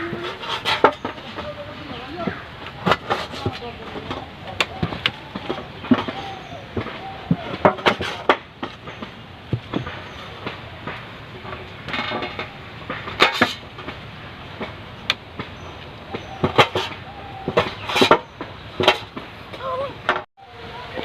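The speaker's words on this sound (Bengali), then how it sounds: "টমেটো আর লঙ্কাটা কেটে নেবো।" A knife chops tomato and green chili for an eel fish curry, giving close, irregular sharp cuts against a board over steady kitchen background noise.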